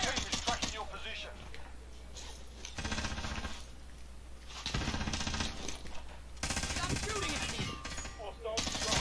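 Rapid automatic gunfire in a shooter video game, with repeated bursts of shots coming in loud waves over several seconds and brief pauses between bursts.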